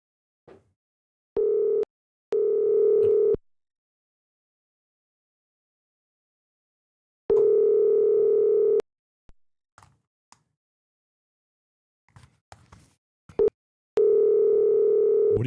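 Phone ringback tone on an outgoing call: clear, low ringing bursts of about a second and a half each, repeating with long silent gaps between them, with no other sound.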